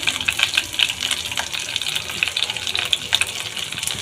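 Water is poured into a pan of frying spices with ginger and green chillies, giving a continuous close gushing splash with bubbling sizzle and slight fluctuations, no voices.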